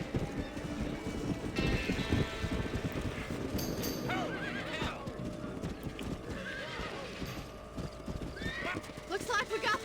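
Galloping horses in the video game Red Dead Redemption, a herd of wild horses pounding out dense, continuous hoofbeats with repeated neighs and whinnies rising over the run, close and loud, mixed with game voices talking.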